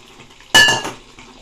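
Chopped capsicum is dropped into a soup pot, a single sudden clatter with a short metallic ring from the pan, close and fairly loud, then fading quickly.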